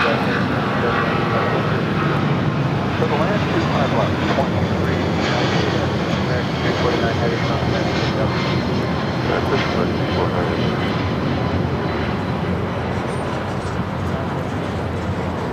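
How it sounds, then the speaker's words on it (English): An American Airlines Boeing 777-200ER takes off at LAX, a steady broadband jet-engine roar that holds loud and constant throughout without fading. "This is American Airlines 349 taking off to Dallas Fort Worth on a 777-200ER"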